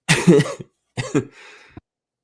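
Two short bursts of coughing close to the microphone, the second followed by a brief raspy breath.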